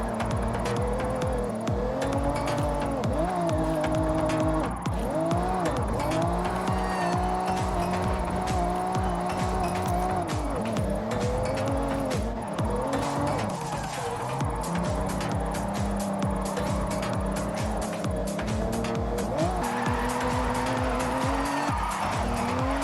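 A Nissan Skyline R32 and a Toyota Supra MK4 drift through a zone in the Forza Horizon racing game. Revving engines roar continuously under long, wavering tire squeals, loud and close, with no voices.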